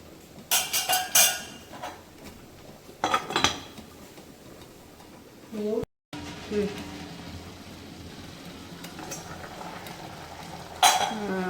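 A spoon stirs kola urundai kuzhambu, a Tamil meatball curry, in a pot, making scattered metallic clinks and scrapes in short clusters, while a person talks in between.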